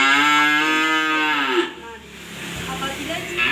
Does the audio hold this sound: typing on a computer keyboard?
no